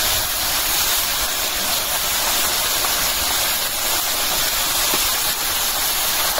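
Chopped onions hit hot cooking oil with a loud, steady, unbroken sizzle that holds at the same level throughout, with no voices.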